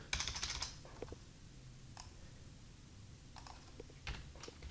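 Keys tap on a computer keyboard while an ICD-10 code is entered in Medisoft software, with a quick cluster of clicks at the start, then sparse single taps, all soft and close.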